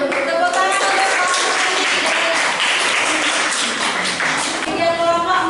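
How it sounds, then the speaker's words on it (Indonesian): Students applaud together in a classroom after a group presentation, a dense, loud burst of clapping lasting several seconds. Voices rise over the claps near the end. "Tepuk tangan untuk"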